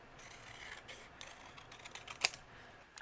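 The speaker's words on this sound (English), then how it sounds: "I'm going to use my scissors and I'm going to fussy cut around." Scissors snip in quick, faint, closely spaced cuts as paper is fussy cut around a greeting for a card, with one sharper snip near the end, close up and without talk.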